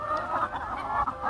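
Free-ranging chickens on a Thai farm cluck softly and continuously at moderate distance, a short stretch of low murmuring calls with no talk.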